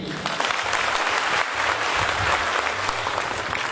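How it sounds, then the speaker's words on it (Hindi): An audience claps for a speaker on stage, the dense, loud applause running steadily throughout with faint voices mixed in. "तो एक शानदार ताली इनके लिए।"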